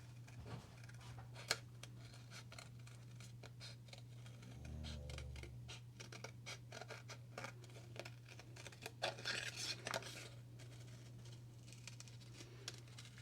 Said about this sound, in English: Then I will cut it out with some scissors.